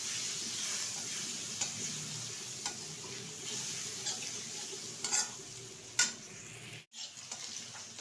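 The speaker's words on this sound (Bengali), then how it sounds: "আলুটা কিন্তু ভালোভাবে ভেজে নেব।" Potato pieces fry in a pan during a recipe with bhetki fish head, giving a steady sizzle with occasional stirring and utensil scrapes near the mic, no voices.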